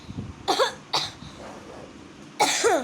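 Three short, harsh coughs sound close up, two in quick succession and a third after a brief pause.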